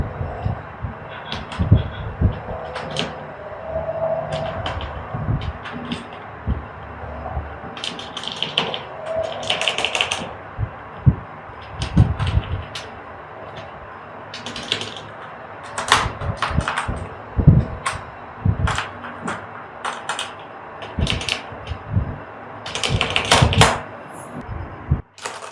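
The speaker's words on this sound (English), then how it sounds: "also typing feels very solid. Yes, very smooth buttery keys, no lag guys, perfect for long typing sessions." Keys clatter on a Zebronics Nitro Pro mechanical keyboard with Outemu Red switches, irregular bursts of close, crisp taps and clacks over about twenty-five seconds.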